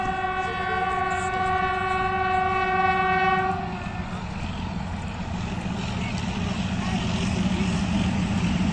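A Pakistan Railways Awam Express hauled by a locomotive opens with a long loud multi-tone horn blast, then a steady rumble and clatter of the passing train at close range.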